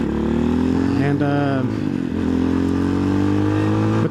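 A TBR7 motorcycle exhaust drones steadily while riding, its engine note rising briefly then settling into a strong even rumble, heard loud and close with a voice talking over it.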